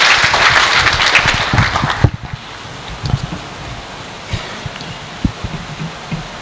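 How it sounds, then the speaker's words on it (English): A conference audience at an education event in Kenya applauds, a dense burst of clapping that cuts off after about two seconds and leaves scattered faint claps and rustling over a windy, open-air background. "Another round of applause."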